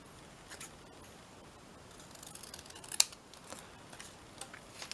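Scissors cut a chunky paper craft tag with a few quiet snipping sounds, one sharper snip standing out, close but faint against a low background hiss.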